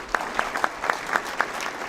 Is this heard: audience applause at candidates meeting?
yes